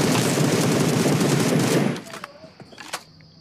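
Rapid automatic gunfire rattles loudly and continuously in a BGMI match, then cuts off into a few scattered single shots and faint clicks, with no talk over it.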